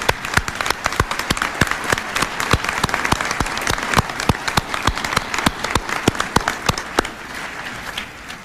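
Applause at a dinner recognition honoring a list of people: a dense, steady burst of many hands clapping, with a few sharp individual claps standing out, loud and sustained before thinning near the end.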